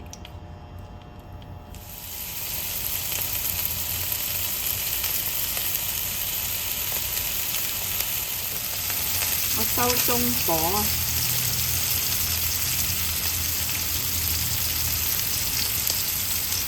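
Bacon wrapped around scallions frying in a pan, a steady close sizzle and crackle that swells partway through, with a brief stir or clink and a voice speaking briefly over it.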